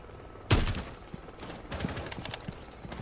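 A sniper rifle shot rings out in Rainbow Six Siege, one sharp loud blast followed by a decaying tail, then scattered fainter gunfire cracks and distant impacts through the rest.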